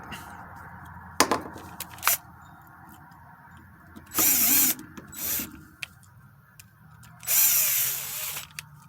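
A power tool drives a screw into a two-stroke carburetor during a primer replacement, sounding in several short whirring bursts of a second or less between quiet pauses, close and fairly loud.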